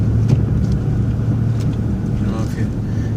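A snow plow truck's engine runs steadily inside the cab, a low continuous rumble with a droning hum, and a voice speaks over it.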